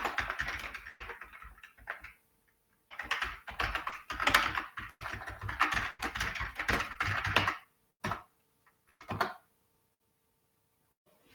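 Fast typing on a computer keyboard, close-up bursts of rapid key clicks with a short pause midway, then a few isolated taps and a final keystroke burst before falling quiet.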